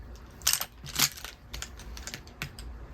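Makeup brushes being gathered and handled, light clicking and clattering of brush handles knocking together in a few quick, close bursts, fairly quiet overall.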